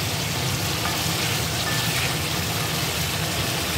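Chicken pieces frying in hot oil in a wok, a steady dense sizzle and crackle that holds at an even loudness throughout, with no voices.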